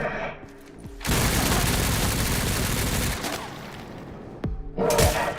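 Enemy gunfire in the video game Resident Evil Requiem comes as a dense, loud burst of rapid shots lasting a couple of seconds, followed by scattered thuds and a final short volley.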